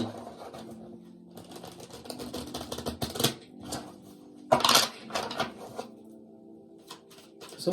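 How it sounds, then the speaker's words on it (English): Tarot cards being shuffled by hand, a run of quick riffling, flicking bursts with short pauses between them, close and fairly loud, with no talking. "Shall we shuffle and look again"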